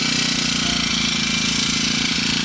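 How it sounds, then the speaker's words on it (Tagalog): A new Honda grass cutter engine runs steadily at high speed, a loud, continuous buzzing drone with a fast even pulse and no pauses, close to the listener. "Bagong grass cutter."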